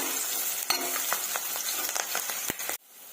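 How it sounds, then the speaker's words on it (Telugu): Onions and curry leaves fry in hot oil with a constant sizzle, broken by a few sharp scraping and clinking stirs of a utensil, before the sizzle suddenly drops to a quiet hiss. "ఇవి బాగా ఫ్రై చేసుకుందామండి."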